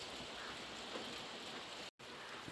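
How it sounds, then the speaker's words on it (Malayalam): Heavy rain falls steadily outside a home, a soft, even wash of drops close by with a brief dropout near the end and no talking. "ഇവിടെ നല്ല മഴയാണ്"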